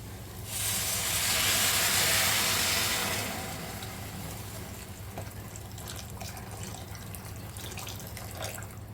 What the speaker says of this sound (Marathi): आता यामध्ये गरम पाणी घालूया